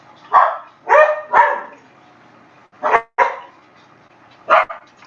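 Several dogs bark nearby in short bursts: a quick cluster of three barks, a pause, then two more, and a final single bark, heard over quiet room noise with no talking.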